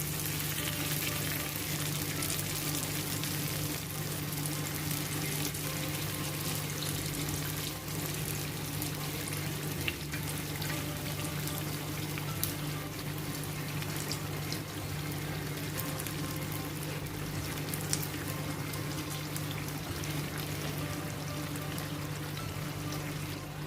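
Unniyappam frying in oil over a medium-low flame, a steady bubbling sizzle that holds at an even level for the whole stretch with occasional tiny pops, close by and with no talking.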